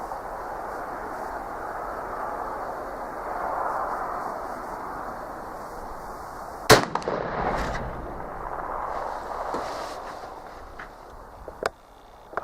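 A single sharp shot from a Tingle .44 black powder pistol cracks out midway through a low, steady outdoor background, followed by a few faint knocks and clicks.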